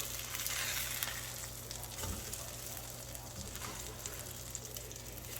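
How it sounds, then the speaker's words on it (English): Pork chops browning in a Hexclad pan, a steady close hiss and crackle of frying fat that runs continuously, with faint occasional movement in the pan. "I'm just browning them in this Hexclad pan"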